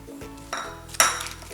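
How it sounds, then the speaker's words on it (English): Romaine salad vegetables with jalapenos, herbs and black pepper are tossed in a bowl, heard as a short burst of clinking utensil and dish contact with one bright clink near the end, close and without talk. "and mix all these vegetables."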